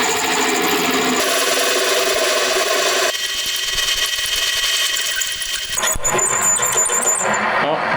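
A drill bores a 12mm hole into hardened metal with a continuous loud grinding whine that shifts in pitch partway through, close up, with voices talking over it.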